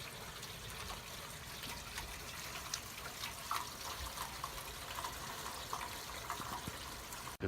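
Steady, heavy splashing of rainwater pouring off a roof, a continuous wash of water with occasional louder drips and no voices.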